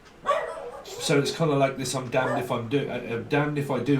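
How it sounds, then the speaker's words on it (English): A dog barks and yips in short repeated bursts at moderate distance, partly mixed with a person talking indoors. "Sorry about the dog at the moment."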